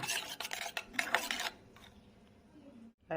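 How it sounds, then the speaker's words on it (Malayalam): Rice is served onto a plate for a Kerala-style home lunch, heard as a short burst of close scraping and spoon-on-plate clatter, followed by a quieter pause and a final soft knock. "ചോറിടുന്നതാണ് കേട്ടോ"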